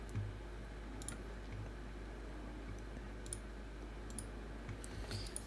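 Quiet, sparse keystrokes tapped on a computer keyboard, a few scattered light clicks over a low steady background hum, close and soft with no talking.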